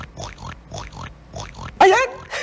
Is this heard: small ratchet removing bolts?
no